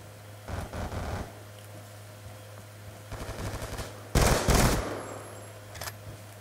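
Bursts of automatic gunfire in Black Ops 2 Gun Game: a couple of short volleys early, a sputtering run mid-clip, then a louder, denser fusillade near the end, all fairly close with no talk.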